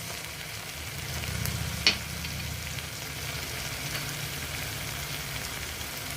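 Crushed red chili, turmeric and dry coriander powder fry in a pan for Lahori chicken, a soft continuous sizzle with a stirring scrape partway through.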